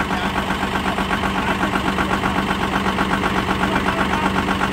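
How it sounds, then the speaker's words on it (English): Tractor engine idling after a cold-weather jump start with a weak battery, a loud, steady mid-pitched rumble with a fast regular knocking pulse, close by and unchanging for the whole stretch, with no talking. "Pretty bad when the mechanic has to jump start your tractor."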